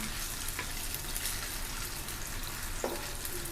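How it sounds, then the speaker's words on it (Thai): Steady, dense sizzling of tofu frying in a hot pan, with a couple of faint clinks, continuous throughout. "ก็จะทอดเต้าหู้ค่ะ ทอดพอเหลืองพอนะคะ"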